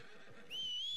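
A horse in Red Dead Redemption 2 gives a brief, high whinny that rises out of quiet game ambience, faint and lasting well under a second.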